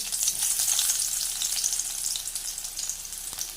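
Sliced shallots frying in a pan with oil, a steady close hiss and crackle of sizzling with faint stirring, no voices.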